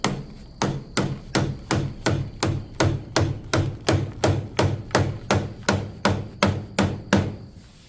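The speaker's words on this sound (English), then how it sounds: "You can tighten that up with some heavier blows with a mallet" A mallet strikes aluminum trim coil wrapped around a post, about fourteen heavy, evenly spaced thuds ringing out close by at a steady rhythm.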